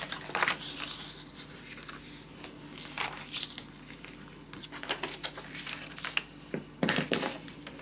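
Scissors snip paper corners for a Christmas mini scrapbook album: a series of short, crisp cuts and rustles at uneven intervals, close by, with no voices.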